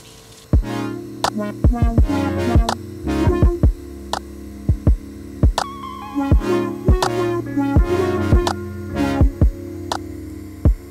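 TIG welding a hot pass on 2-inch Schedule 10 stainless steel pipe produces a loud, steady electric hum, broken by regular sharp ticking pulses.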